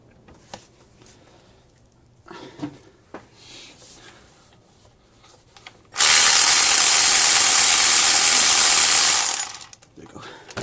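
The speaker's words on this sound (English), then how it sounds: "I'll be using my cordless power wrench" Cordless power wrench whirring loudly in one sustained burst of about three seconds while removing starter bolts on a 2009 Nissan Versa, preceded by faint clicks and handling noises and followed by a brief tail.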